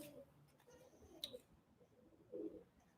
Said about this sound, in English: My pigeon friends are visiting here. I can hear them cooing